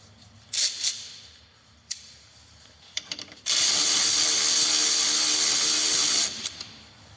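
A power tool bolts up a front engine mount on a Smart 451, with a few brief clicks and short bursts before one loud, steady whir of about three seconds, close by, followed by faint rattles.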